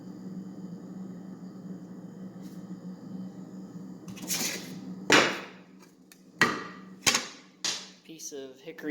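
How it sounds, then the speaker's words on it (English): Saw cutting a wooden bow riser block in half, the strokes starting after a quiet hum and rising into several sharp, loud bursts near the end. "Cutting a perfectly good riser block in half."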